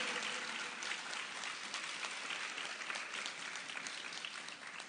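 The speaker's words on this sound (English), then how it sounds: "Let's give her a round of applause." An audience at a book launch claps in dense, steady applause that fills the room at an even level for several seconds, with no speech over it.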